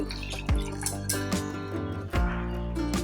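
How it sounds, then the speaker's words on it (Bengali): Warm milk from a bowl poured into a sugar and oil mixture for an eggless cake, giving a close, steady liquid pour with soft drips and a couple of brief splashy bursts, no talking. "এবারে দিয়ে দিচ্ছি এক বাটি উষ্ণ গরম দুধ"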